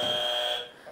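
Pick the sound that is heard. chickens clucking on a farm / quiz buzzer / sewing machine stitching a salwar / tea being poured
quiz buzzer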